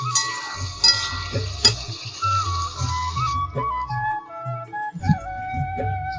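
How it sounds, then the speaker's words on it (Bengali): Water poured into a pan of frying spice paste with fried muskmelon and potato for a rohu fish curry, giving a loud hiss and sizzle at first that settles into softer bubbling and stirring clinks. "দেখো মা এবার পরিমাণ মতো জল দিয়ে দিচ্ছে।"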